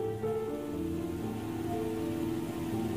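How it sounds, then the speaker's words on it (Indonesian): Heavy rain pours in a steady, dense wash with a low rumbling undertone, unbroken and fairly loud throughout, with no voices. "Saat itu hujan turun dengan lebatnya."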